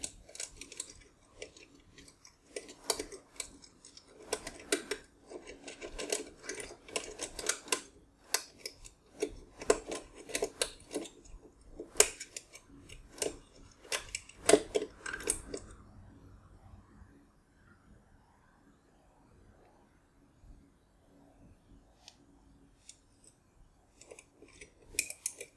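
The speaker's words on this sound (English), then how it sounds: "I can hear the latches." Latches of a Vaultek gun safe click repeatedly in dense, irregular bursts of small mechanical ticks, close and fairly quiet, thinning out toward the end with a few isolated clicks.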